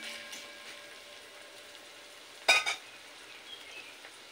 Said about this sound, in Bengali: তো প্রথমেই এই পেঁয়াজটা লাল করে ভেজে নেব